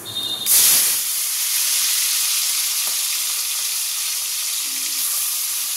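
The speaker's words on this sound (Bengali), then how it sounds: "চিংড়ি মাছটা ভেজে নিই।" Shrimp frying in hot oil gives a steady, bright sizzle and hiss right after they hit the pan, staying close and even for several seconds with no talking.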